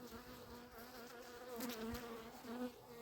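Honeybees clustered in a hive hum in a soft, steady buzz close by, a dense drone with no talking.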